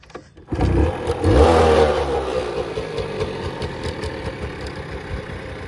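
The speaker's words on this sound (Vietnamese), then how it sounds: "Đây em nổ máy em nói luôn đi" A Yamaha Mate 80cc two-stroke motorbike with original paint starts up close by, its engine catching with a loud burst, revving briefly, then settling into a steady, fairly quiet idle.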